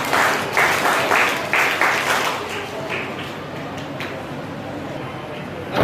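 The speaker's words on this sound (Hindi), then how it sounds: "एक बार अभिनंदन ताली को।" An audience at a school annual function bursts into steady applause, a dense wash of clapping that holds and then gradually thins, with some voices mixed in.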